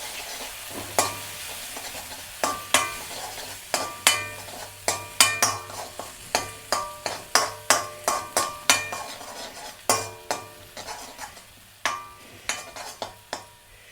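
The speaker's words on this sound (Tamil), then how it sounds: "இப்போ அப்படியே கிளறி விட்டு கொண்டுதான்." An egg stirred in a frying pan for late-night pasta, with repeated sharp scrapes and clinks of a utensil against the pan in an uneven rhythm over a faint sizzle, close and clear with no talking.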